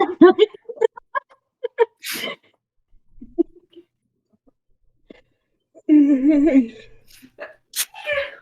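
A sharp sneeze bursts out amid chatter, with people talking before and after it and a second sneeze-like burst near the end.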